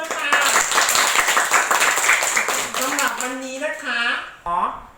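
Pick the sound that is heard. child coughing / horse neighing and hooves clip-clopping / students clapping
students clapping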